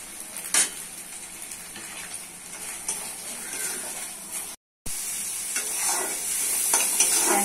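Turmeric, chili, cumin, coriander and salt sizzle in a pan with onions for a pumpkin and red lentil curry, a steady close frying hiss with spoon stirring throughout and a brief cut of silence midway.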